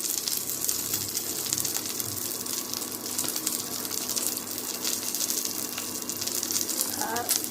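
Mustard seeds, curry leaves and sesame seeds sizzle in hot oil, a dense, steady crackle that stays fairly loud and even from start to finish.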